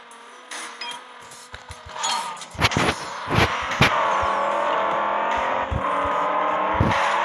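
A car in Need for Speed No Limits drifts through a street race, its engine revving and climbing while tires squeal and skid in bursts, then a sustained loud whine of acceleration holds steady near the end.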